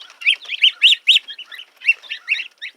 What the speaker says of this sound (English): I have about 4 little geese, 2 little ducklings, and we bought some Orpington buff chicks